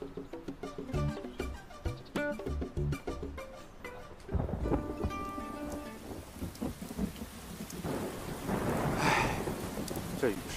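Heavy rain pours with deep thunder rumbling, joined partway through by a broad roar of downpour, the storm heard over tonal music in a dramatic scene.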